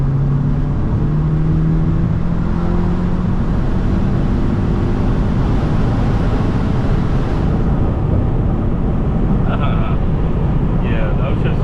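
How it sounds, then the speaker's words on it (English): An Audi S3 with upper and lower transmission mount inserts drives at speed, its engine droning steadily with rising tones as it shifts up through gears under road and wind noise; someone talks over it. "the upshifts are definitely a lot more smoother"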